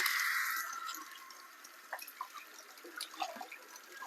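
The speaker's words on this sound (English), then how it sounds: "So I'm just going to rinse the barley in hot water again." Hot running water pours onto barley being rinsed, starting as a brief steady stream and then giving way to faint, scattered drips and splashes in a quiet kitchen, with no voices.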